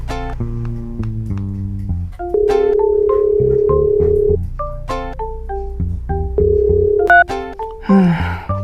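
Telephone keypad dialing: a quick run of loud DTMF key tones, then a long sustained tone, then another burst of dial tones. A short noisy rustle follows at the end.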